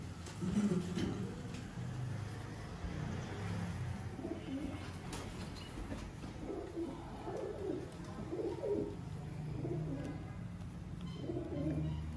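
Sialkoti pigeons, one breeding, coo repeatedly in low, throaty phrases over a steady background hum, with short pauses between bursts of cooing.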